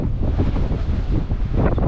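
Strong wind buffets the microphone at a motocross corner track, a loud continuous rumbling roar with no talking.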